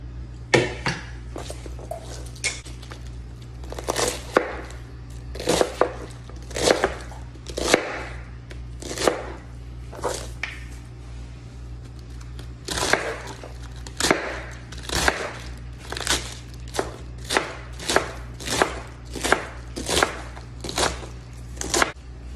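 A knife chops thick pieces of lettuce on a cutting board, with steady crisp chops in quick bursts and runs, close and loud over a low steady hum, with no speech over them.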